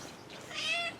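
A female pet cat gives one clear, close meow rising over faint room noise, short and drawn out slightly at the end.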